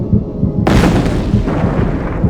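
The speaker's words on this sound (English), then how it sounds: "This film shows what happens during an explosion." A sudden loud explosion from a documentary film bursts in abruptly after a brief low rumble, then gives way to a sustained, dense roaring rumble that continues without any voices.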